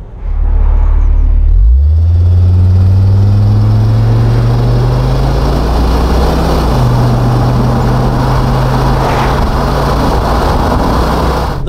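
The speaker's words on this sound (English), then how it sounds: "It does actually sound pretty good when you let it rev out" A 1997 Volvo V70R AWD engine revs up hard from inside the car, the loud droning note climbing steadily through the gears with a brief shift dip, then holding a strong roar under acceleration.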